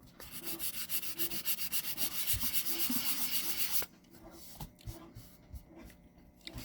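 A fretless G&L guitar neck being sanded by hand: rapid, rhythmic back-and-forth rasping strokes, close and loud, then stopping abruptly and giving way to quieter scattered handling knocks and rubs.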